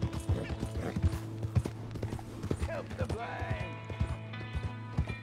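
A horse in a Western-style video game, close hoof clip-clops in an irregular rhythm with a whinny partway through, while someone talks over it.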